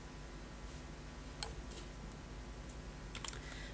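Typing on a computer keyboard while a user account is filled in: a few sparse, faint key clicks spaced out over a steady background hiss, with no voices.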